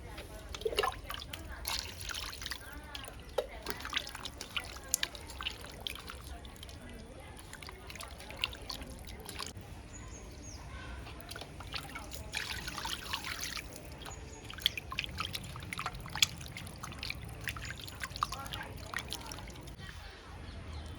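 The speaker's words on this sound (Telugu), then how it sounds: "ఫస్ట్ అయితే ఈ చికెన్ని శుభ్రంగా కడుక్కుందాం." Raw chicken pieces get washed under water, a soft trickle and splash with intermittent handling noises, faint and continuous throughout.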